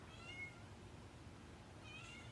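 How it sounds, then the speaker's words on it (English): A house cat meows twice, thin and faint, once near the start and again near the end, against a steady low hum with no talking. "Only one of my cats is crying."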